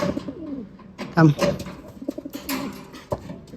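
Pigeons coo in short throaty bursts, one louder call standing out, with people talking over and around them.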